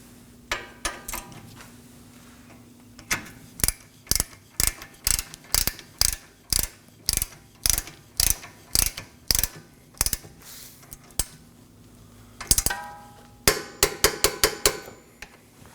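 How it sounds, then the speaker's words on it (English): Torque wrench ratcheting as a ball joint to knuckle bolt is tightened on a 2013-2019 Nissan Sentra: a regular series of sharp, close metallic clicks in repeated strokes, ending with a quicker cluster of clicks. "We're going to go ahead and torque the ball joint to knuckle bolt to 41 foot-pounds."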